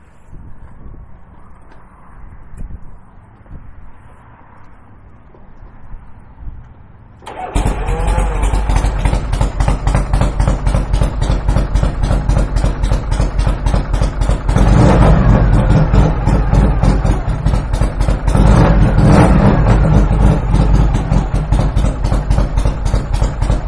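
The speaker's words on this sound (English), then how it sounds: "I am going to start it up with the electric start" A quiet stretch gives way to a 1973 Shovelhead V-twin with a fully rebuilt engine, S&S carbs and true dual fishtail exhaust firing up on the electric starter, then loud, lumpy idling with a few throttle revs.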